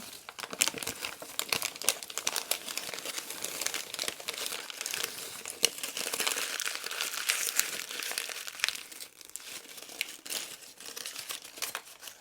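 Junk journal paper is crinkled and crumpled by hand close to the microphone, a dense crackling of sharp papery snaps that runs continuously for about twelve seconds with no speech.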